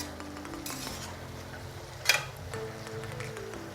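Safflower leaf (karadai) vegetable is stirred in a pan with quiet scraping and a single sharp clink of a utensil against the metal, over a low steady background.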